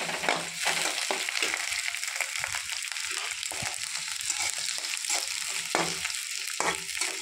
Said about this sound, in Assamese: এতিয়া পিঁয়াজ অকণমান ৰঙাকৈ ভাজিব লাগিব ৰঙচুৱা হ'ব লাগিব